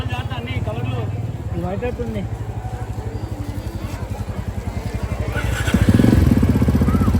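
A motorcycle engine that has become stuck pulses in a loud, steady rhythmic putter close by, then revs harder near the end, with a voice talking over it.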